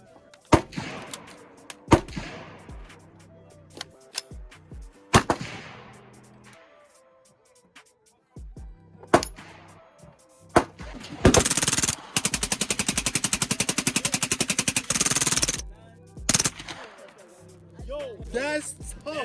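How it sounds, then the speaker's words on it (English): Bursts of gunfire with rounds shot through woods near a yard, single loud cracks early on, then a long rapid automatic stretch of dense, rattling shots, with excited voices talking around them. "the rounds are coming through the woods across his yard"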